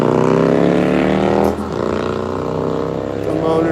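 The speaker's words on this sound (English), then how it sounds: "The motorcycle sound effects." Motorcycle engine passing nearby, a loud buzzing whine with a falling pitch sweep as it goes by midway, then continuing at a steady, slightly lower drone.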